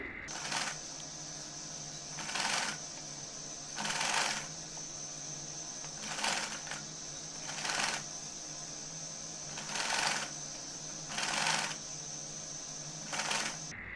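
A sewing machine stitches bias-strip piping onto the neckline of a girl's winter frock, running in short bursts of rapid, close needle clatter separated by quieter pauses, with no talk.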